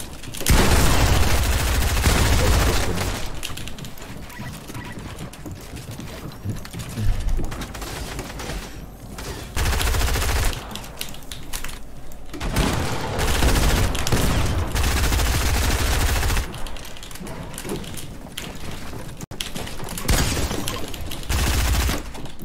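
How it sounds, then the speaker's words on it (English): Dense bursts of video-game gunfire crackle and rattle almost nonstop, with rapid volleys that swell loud, ease briefly around the middle and then surge again. "This kid really likes shooting me, doesn't he?"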